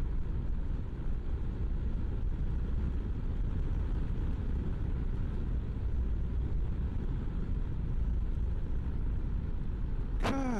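A BMW G650GS motorcycle rides along a road on an autumn day, its engine a continuous low rumble blended with heavy wind noise, steady and close, ending in a brief high chirp.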